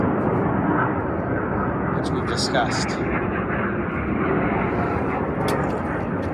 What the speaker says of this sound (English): Oh, a little military jet.